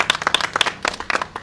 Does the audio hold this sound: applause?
yes